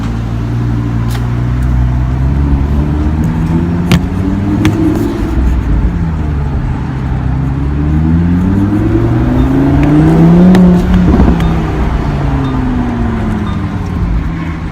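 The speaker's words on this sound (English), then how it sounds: "You just scare people with the exhaust." Engine and exhaust of a 2017 Lamborghini Huracan Spyder LP610-4 while driving, heard from inside as a loud, continuous drone that rises and falls through gear changes with revving surges, alone without talk.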